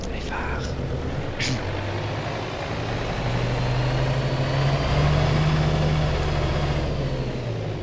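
A Van Hool AG300 bus engine idling in the OMSI bus simulator game, a steady low diesel rumble that swells slightly and rises in pitch midway, with a brief click near the start.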